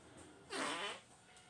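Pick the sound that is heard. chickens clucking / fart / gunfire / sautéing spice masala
fart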